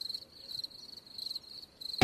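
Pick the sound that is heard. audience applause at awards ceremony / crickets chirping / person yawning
crickets chirping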